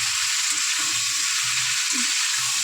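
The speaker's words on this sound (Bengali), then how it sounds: "এবার ভাজা হোক" Pointed gourd (potol) frying in oil in a pan, a steady close hiss of sizzling with faint low bubbling beneath.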